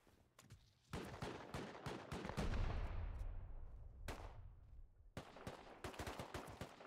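Bursts of gunfire from players in the survival game Rust: rapid volleys of shots, some close and loud, others more distant, packed in dense clusters with a brief lull in the middle before firing resumes.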